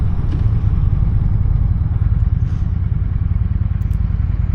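A Honda Shadow Phantom 750 motorcycle engine running while riding, a steady, close low rumble with a rapid pulsing beat that holds constant throughout, no voices over it.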